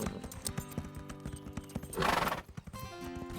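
A cartoon horse whinnies and sets off, its hooves clip-clopping in a quick, steady rhythm close by, with a loud neigh partway through and no talk over it.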